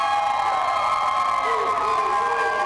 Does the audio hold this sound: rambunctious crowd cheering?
yes